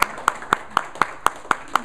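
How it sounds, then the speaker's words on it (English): A single person clapping in a steady, even rhythm, about four claps per second, close and distinct, with no crowd applause around it. "Give him a round of applause."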